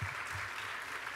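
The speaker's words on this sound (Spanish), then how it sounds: "les invito a que les den un fuerte aplauso, por favor" Audience applause at a public history debate event, a steady dense wash of clapping held at an even level through the whole short stretch, with no voices over it.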